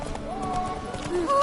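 Hooves of Geralt's horse Roach clip-clopping at a run in The Witcher 3, a steady rhythmic gallop heard up close beneath game music and a voice talking over it.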